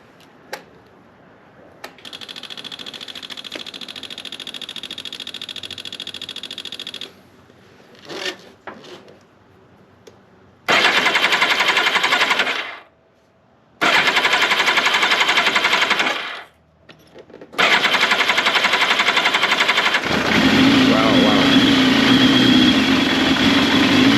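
A Yamaha FZR 1000 motorcycle engine, just fitted with carburetors, sputters through brief attempts before catching and running loudly in steady stretches, cutting out twice and restarting, then idling on with a rough, even drone.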